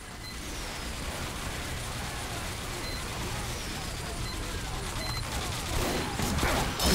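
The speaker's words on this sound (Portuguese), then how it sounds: "Nossa, eu escuto um monte de metralhadora atirando." Heavy machine gun fire in Team Fortress 2, a steady dense clatter of rapid shots running throughout, rising slightly near the end, with a voice talking over it.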